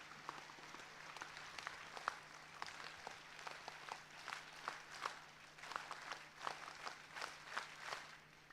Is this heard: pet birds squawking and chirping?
no